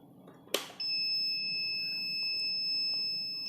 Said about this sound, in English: it says Eeprom error and the radio has a constant beep